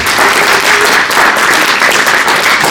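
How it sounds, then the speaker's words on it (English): Audience applause fills a live fan convention stage show, a steady dense wash of clapping from a large crowd that holds loud and even throughout with no pauses. "Another round of applause."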